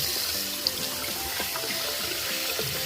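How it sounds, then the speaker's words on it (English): Water drains from a bathroom sink with gurgling, trickling and splashing, close and continuous, with small bubbling pops as the basin empties. "Let's let it go down all at once. Oh yeah, it's draining nice and clear now."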